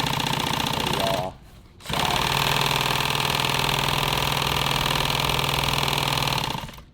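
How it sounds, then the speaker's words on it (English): A sewing machine stitches nylon tactical gear with a loud, rapid mechanical chatter up close, running steadily, pausing briefly, then running on until it stops. "I'm just going to sew this together back to back, meaning raw edges towards the inside"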